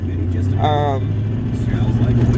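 Ford Explorer on a test drive after a radiator replacement, with a steady mid-pitched engine hum running throughout and a short burst of talk over it.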